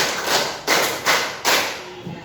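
A sixth-grade primary school class claps hands together in a counted rhythm, producing a few evenly spaced, loud unison claps that ring briefly in the classroom.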